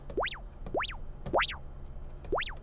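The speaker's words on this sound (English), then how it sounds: "Little droplet sound." Four quick droplet blips from the Omnisphere synthesizer, each a bright rising-then-falling pitch sweep, spaced about every half second over a soft low hum.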